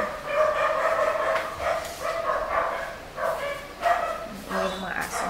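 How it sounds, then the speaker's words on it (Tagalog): Several dogs bark in quick, repeated bursts at a household during a move, fairly close and loud, over steady background noise. "ayan ang mga aso."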